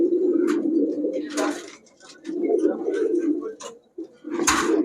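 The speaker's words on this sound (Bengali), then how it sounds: "নরের ডাকটা দেখেন খুবই সুন্দর" A male Giribaz pigeon coos close by in repeated rolling bursts with short pauses, a deep throaty warble, while a person speaks faintly in the background.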